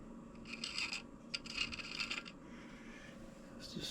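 Valve grinding paste laps a Vespa scooter's flywheel onto its crankshaft, giving quiet, gritty rubbing strokes in short close bursts separated by brief pauses.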